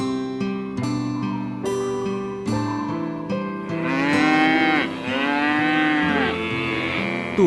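Cattle in a desert-set Islamic story moo in long, loud bellowing calls that come in midway over soft background music.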